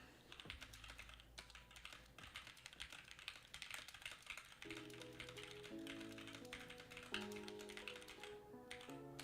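Rapid typing on a computer keyboard, a dense stream of clicking keystrokes that runs on steadily under soft background music.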